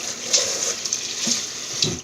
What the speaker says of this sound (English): And I'm gonna rinse this off.